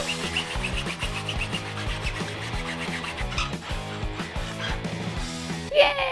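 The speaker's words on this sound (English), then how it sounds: "so we're gonna use a hacksaw." A saw rasps back and forth in quick repeated strokes, a steady scraping rhythm close up, ending with a brief clatter.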